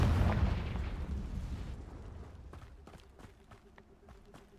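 A Confringo spell explosion in the video game Hogwarts Legacy, with a loud booming blast that rumbles and decays over a few seconds, followed by quieter game sounds.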